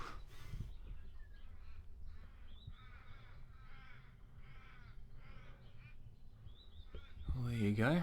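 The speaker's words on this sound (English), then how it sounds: "The crows are very, very vocal." Crows caw repeatedly around the back porch of an old 1800s cottage, a run of harsh calls at moderate distance over quiet background, ending in a louder close noise.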